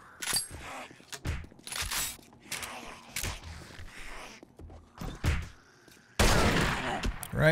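Several shotgun blasts ring out in 7 Days to Die, sharp bursts spaced irregularly among clanks and thuds, with one heavy blast near the end, while someone talks.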